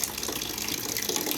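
Water gushes steadily from a newly installed water connection tap in a village near Aswan, Egypt. The flow is close and continuous, with a broad hiss and splash and no talk.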